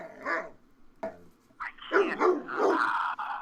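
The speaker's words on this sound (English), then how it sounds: "Can you please quiet that dog down?" A dog barks loudly and close by in a run of sharp barks and yips mixed with growly sounds, coming in uneven bursts with short pauses between them.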